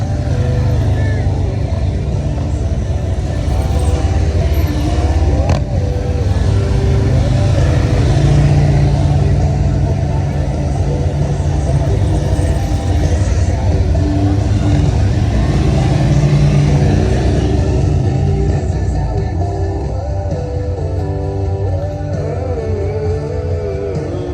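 Police motorcycles revving at a fall festival demonstration in Bensalem, a loud continuous engine drone rising and falling as the bikes maneuver, with a public-address announcer talking over it.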